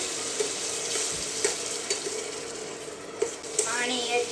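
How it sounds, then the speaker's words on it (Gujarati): Water is poured into a sizzling tempering of green chillies while cooking pasta, giving a close, bright frying hiss with a few sharp stirring clinks against the pan. "પછી એમાં આપણે થોડુંક પાણી એડ કરીશું."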